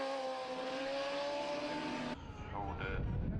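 Suzuki superbikes race along the Cookstown 100 road course, a loud steady engine roar at high revs that cuts off abruptly partway, followed by quieter, changing engine notes as the bikes slow.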